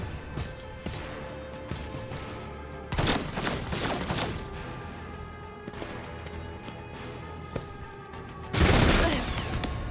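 Gunshots in Warhammer 40K: Rogue Trader arrive as loud bursts of blasts and crashes, one strong volley early, scattered hits in between, and a heavy final barrage, over a steady game ambience.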